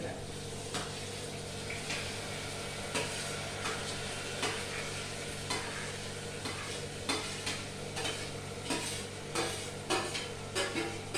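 Capsicum and tomatoes for pav bhaji sizzle steadily in a pan on low gas, with repeated stirring scrapes and clinks over the constant frying hiss.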